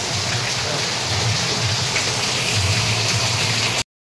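Heavy rain pours down on a Mumbai street, a loud, steady hiss of downpour that runs unbroken for several seconds before cutting off abruptly, with no voices.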